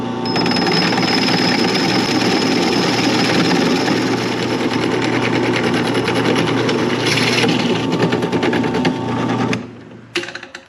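Power drill boring through a clamped trolling motor mount base, a loud, steady, close whine with rattling vibration that runs for about nine seconds before spinning down and stopping.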